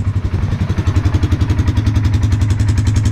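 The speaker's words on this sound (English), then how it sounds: "Don't know if you can hear me over the engine running or not." A Polaris 570 Sportsman SP Touring ATV engine runs close up at a steady, loud idle, with a continuous low rhythmic thrum and mechanical clatter throughout.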